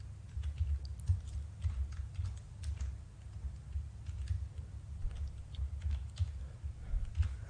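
Rapid typing on a computer keyboard, a busy run of close, light key clicks with irregular rhythm and slightly louder taps scattered through, no speech.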